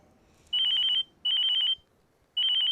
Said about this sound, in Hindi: ये देखो, ये किसका फ़ोन आ रहा है?